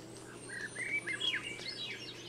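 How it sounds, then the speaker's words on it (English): A Swainson's thrush sings in a Panama cloud forest, giving a rising, flute-like spiral of clear whistled phrases, moderately close and alone over soft ambient forest background. "That is a Swainson's thrush."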